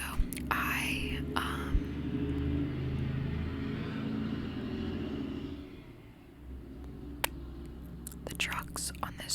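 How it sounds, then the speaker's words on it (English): Trucks pass on a road outside a home, a low rumbling roar that swells and fades across the span, heard under soft close whispered talk. "the trucks on this road that I live on are heinous, so I'm sorry about that"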